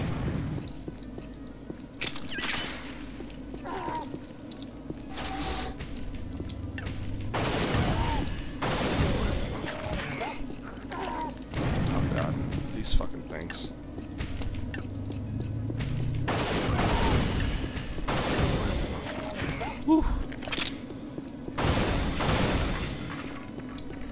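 Bio rifle shots in Unreal on the Sunspire level sound as repeated punchy discharges at irregular intervals over a busy background of combat noise and movement.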